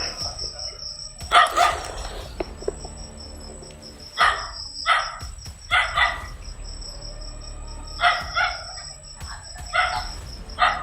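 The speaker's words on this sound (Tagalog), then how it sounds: "Yung mga aso." Dogs bark in short repeated bursts at a middle distance, over a constant high chirping of insects.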